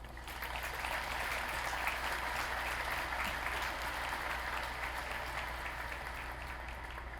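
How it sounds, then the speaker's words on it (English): Steady, sustained applause from a large audience at a high school graduation ceremony, with a dense even wash of clapping heard from some distance and a low hum underneath. "Please give her a round of applause."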